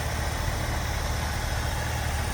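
A 1969 Ford Bronco Sport 4x4 with a 302 V8 engine idling, a steady low rumble heard up close with the hood open and no talk.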